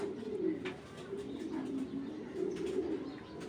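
A racing pigeon coos close by in low, rolling, repeated phrases over faint background noise, with a few brief higher chirps and no speech.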